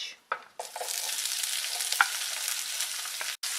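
Chopped onion dropped into hot oil with whole black pepper and other spices: a thump, then a loud, dense sizzle that holds steady and close for several seconds, with small pops and a brief break near the end.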